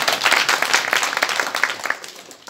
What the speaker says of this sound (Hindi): तो कम से कम इतने सारे काम हुए उसके नाम की ताली तो बजा दो।